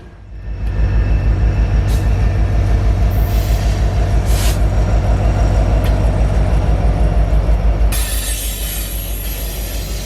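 A northbound train rolls past close by at Oakdale on the Tennessean line, a loud continuous rumble of wheels and cars with air brake hiss and squeal, steady throughout and shifting in tone near the end.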